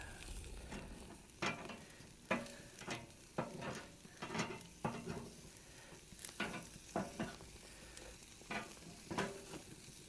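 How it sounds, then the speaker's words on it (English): Bone marrow sizzles faintly in a hot pan, with repeated stirring or shuffling scrapes in an uneven rhythm, quiet and close. "You can see the marrow is starting to sizzle in there really nicely."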